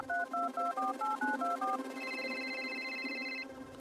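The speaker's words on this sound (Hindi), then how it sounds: "बिल्डिंग में नीचे उतरकर मैंने रीना को कॉल किया।" A mobile phone dials out with a quick run of clear touch-tone beeps, followed by a steady electronic ringback tone, close and fairly quiet.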